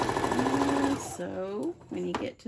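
A sewing machine stitches a fabric bowl koozie in a short burst, then stops while a person talks over it.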